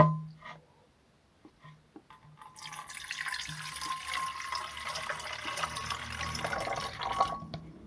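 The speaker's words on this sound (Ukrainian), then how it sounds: "І ми в нього заливаємо наш рідину." Liquid being poured into a 2-litre hand sprayer, a steady broadband splashing and filling sound that starts after a few faint knocks and continues close and moderately loud to the end.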